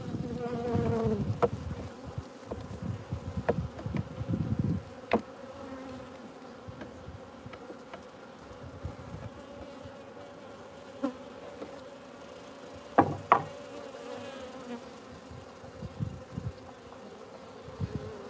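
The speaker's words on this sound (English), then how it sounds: "See how many bees are just literally getting high on the honey." Honeybees buzz steadily around freshly harvested honey, a dense close swarm hum with individual bees zipping past the microphone now and then.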